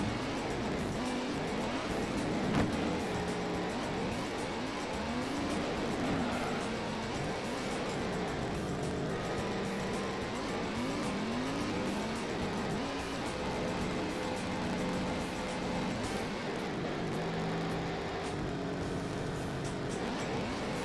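Race car engines in the Gran Turismo 1 video game, a continuous dense roar of revving and shifting engines with occasional tire squeal, steady and loud across the whole stretch.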